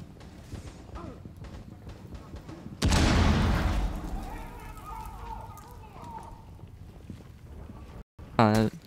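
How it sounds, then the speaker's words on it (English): Bombs exploding inside a first-person shooter video game: a loud, sudden blast erupts mid-clip and rolls off into a long rumbling decay, set among scattered smaller game noises and a brief sharp burst near the end. "these are the bombs I hear then."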